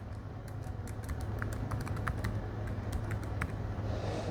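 Quick, irregular taps of a computer keyboard as a password is typed, close and steady over a low background hum, with no voices.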